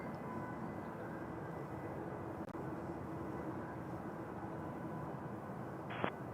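Airliner throttling up for takeoff on Toronto runway 06 left, a steady broad engine roar holding level throughout, with a brief higher-pitched hiss near the end.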